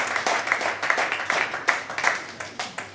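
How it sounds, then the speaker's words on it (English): Applause from a small audience at a Longines Global Champions Tour show-jumping event, with distinct individual claps in an uneven rhythm, fairly close and fading slightly. "I think that they are worth a big applause for that as well."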